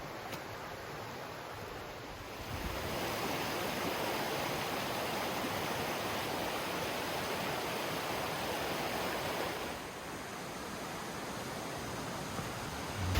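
A river rushing through the wooded Luxulyan Valley in Cornwall, a steady broadband wash of flowing water close by, constant and unbroken with no voices.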